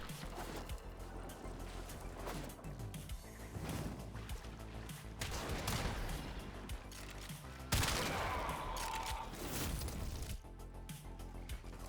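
Rapid, dense gunfire from the Warframe video game, with bursts and fusillades continuing loud and unbroken across the whole stretch, layered with impacts and crashing effects.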